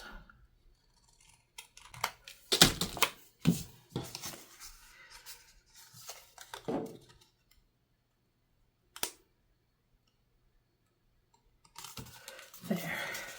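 Card paper is cut for card making with scissors, giving sharp snips and paper rustles in short close bursts separated by quiet pauses.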